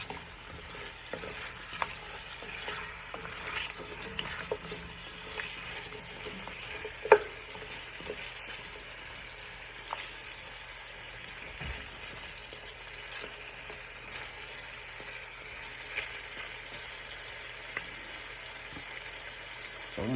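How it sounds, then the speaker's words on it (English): Seasoned potatoes fry in an open pan while being stirred, giving a faint, steady sizzle broken by occasional soft scrapes and knocks from the spoon. "we want the potatoes to get a nice little fry"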